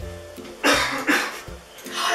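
A single person's cough, close and fairly sharp, followed by a second cough or throat sound in a quiet indoor room.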